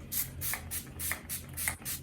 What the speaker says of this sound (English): I'm using the Urban Decay All-Nighter Setting Spray.